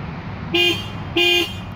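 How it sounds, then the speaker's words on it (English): Two short honks from a Mazda RX-7's original car horn, each about a quarter second, loud and close, with a brief gap between them. "now we're going to hear the original horn"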